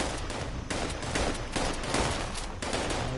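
Gunfire in the video game Fallout 76 near a hostile turret and raiders: loud, continuous rattling volleys of shots with short surges, filling the whole stretch without talk.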